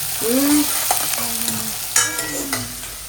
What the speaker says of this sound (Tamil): இப்போ இது நல்ல கோல்டன் ப்ரௌன் வந்து வதங்கட்டும்.